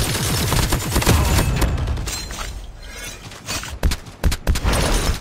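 Rapid gunfire from several players in Call of Duty Mobile, loud bursts and crackling shots at first, then a brief lull before more sharp, spaced impacts near the end.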